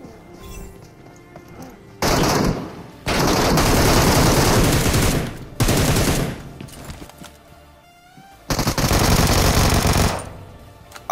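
MK14 rifle fire in the BGMI mobile battle royale game comes in loud sustained bursts of rapid shots, several separate volleys with short quiet gaps between them, close and dominant.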